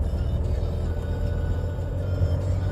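A 2014 Mercedes E350D accelerates on a test road, a steady low engine rumble heard from inside the car, continuous and fairly loud with no other sounds.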